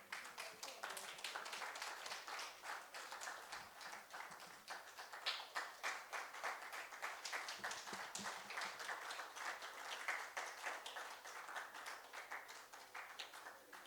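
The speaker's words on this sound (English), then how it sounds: "Can we have a warm round of applause," A standing audience at a book launch event claps steadily, a warm continuous round of applause with sharp individual claps audible throughout, somewhat distant and even in level.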